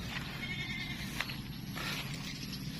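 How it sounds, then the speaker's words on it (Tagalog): Goats bleat on a rainy-season farm, several wavering calls at moderate distance over steady background noise, with no one speaking. "Nahanap natin yung dalawang kambing"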